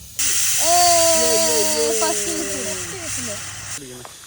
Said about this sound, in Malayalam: നമ്മുടെ കുക്കർ ഇപ്പൊ അടിക്കും ഫസ്റ്റ് വിസിൽ